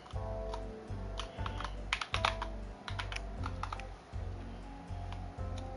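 Steady computer keyboard typing runs throughout, fast clicking keystrokes over a low droning background during a Final Fantasy 7 Rebirth gaming stream, with no speech.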